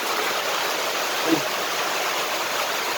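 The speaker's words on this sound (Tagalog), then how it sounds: "Lakas ang ulan." Heavy rain pours down in a steady, dense hiss that fills the whole stretch evenly, with no voices standing out.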